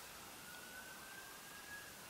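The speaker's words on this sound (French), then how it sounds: "J'entends une ambulance ou la police, en tout cas." A faint, distant ambulance or police siren wails steadily beneath a constant wash of background noise.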